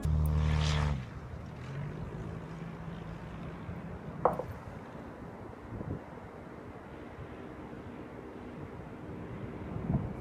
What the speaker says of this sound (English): from Matthew Norris, who sent me this clip on Twitter of a fairly non-standard takeoff